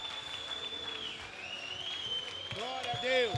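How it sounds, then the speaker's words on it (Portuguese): A church congregation applauds, their clapping a diffuse patter beneath a steady tone and a voice speaking over it, swelling slightly toward the end. "Você pode aplaudir a Jesus Cristo."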